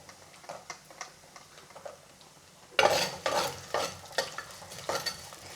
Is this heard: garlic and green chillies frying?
yes